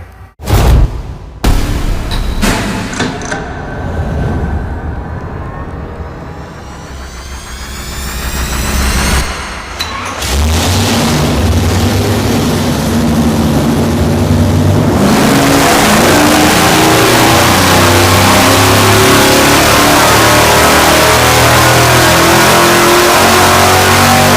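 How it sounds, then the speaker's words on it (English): A supercharged V8 on an engine dyno cranks and fires up, then idles roughly before climbing into a loud, sustained rev that holds steady, heard up close and alone. "We just don't know how much until Uncle Steve fires it up."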